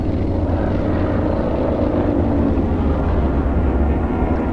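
An airplane in the zombie game Dying Light drones overhead as a steady, fairly loud low engine rumble that holds evenly throughout, with no talking.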